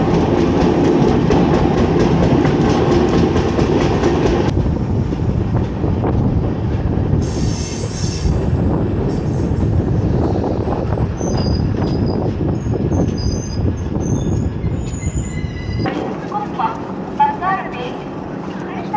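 The Brindavan Superfast Express rumbles along the rails just after leaving Vaniyambadi, with loud, continuous wheel noise, rhythmic clickety-clack and brief high metallic squeals heard from inside the carriage.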